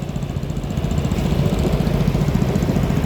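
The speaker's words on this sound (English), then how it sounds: "a lovely little Yanmar diesel tractor with us now" A little Yanmar 169D diesel tractor runs nearby in a vintage tractor parade at a steam rally, a steady loud chugging rattle with an even throbbing pulse.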